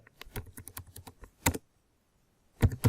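Keystrokes on a computer keyboard while HTML code is typed: quick runs of crisp clicks, a pause, a short burst, then another cluster of taps near the end, close and fairly quiet, with no talking.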